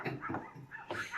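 Several small chihuahuas yip and bark from across the street in short, repeated bursts with brief pauses between them, heard at a moderate distance.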